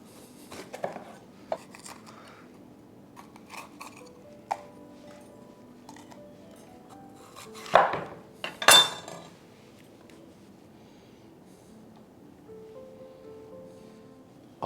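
Halved bell peppers, including a yellow one, are set into a baking dish, giving scattered light knocks and clatters followed by two louder clunks of dish and handling noise partway through, with quiet pauses between.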